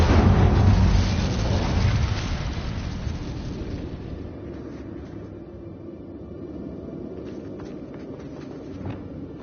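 The Incendio fire spell is cast in Hogwarts Legacy as a loud, roaring burst of flame that swells at once and slowly fades into a low, crackling rumble.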